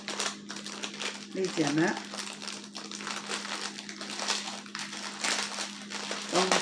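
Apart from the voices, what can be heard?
unboxing a DAC, unwrapping packaging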